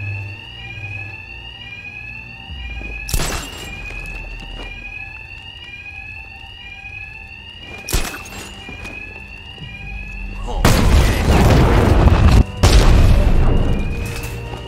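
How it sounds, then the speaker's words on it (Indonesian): Repeating electronic alarm in Batman: Arkham Knight, a high pulsing two-tone pattern running throughout, cut by heavy booming impacts of combat around three and eight seconds and a dense burst of loud crashes near the end. "My attacks will be covered by the noise of the alarm."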